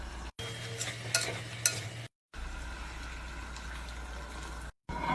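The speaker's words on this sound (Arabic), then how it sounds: "نترك اللحم يستوي." Meat stews in a pot for Kabuli rice, a soft steady sizzle with occasional stirring clinks, cut by brief silent gaps.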